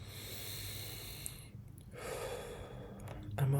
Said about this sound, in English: let me take some deep breaths